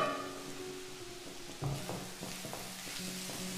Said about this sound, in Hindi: अब सबको अच्छी तरह से भूनेंगे सब्जियों के साथ में मसाले